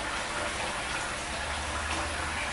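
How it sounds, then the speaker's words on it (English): Warm water runs from a tap while shaving soap is rinsed off the face, a soft, steady splashing hiss that stays even throughout, with no voices. "Rinsing most of the soap off."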